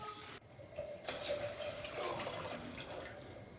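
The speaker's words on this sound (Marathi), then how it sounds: "सगळं पाणी एकदम घालून घ्यायचं" Water is poured into a cooking pot for pasta as a steady, quiet stream lasting a few seconds, close by and with no talking.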